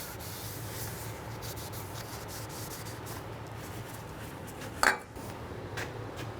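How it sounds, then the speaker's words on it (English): A rag wipes a brake part on a 2017-2022 Honda CR-V during a front brake replacement, making a soft, quiet rubbing close by, with a brief sharper scrape near the end. "Wipe it with a rag."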